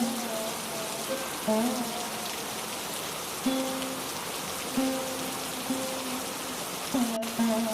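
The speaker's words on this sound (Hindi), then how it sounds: "थोड़ी ही देर में बारिश होने लगी।" Heavy rain falls steadily in a forest, a continuous close hiss of drops on leaves and ground, with faint recurring tonal sounds rising above it at intervals.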